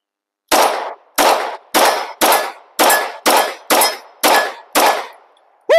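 Nine loud Springfield Hellcat Pro pistol shots ring out at an outdoor shooting range, fired at a steady, evenly spaced pace, each a sharp crack with a short ringing tail, and nobody speaks.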